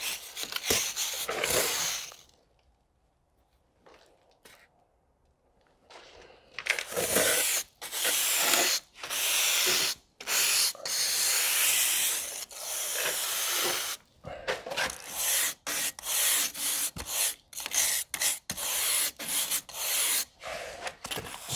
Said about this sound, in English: A little brush to clean everything up.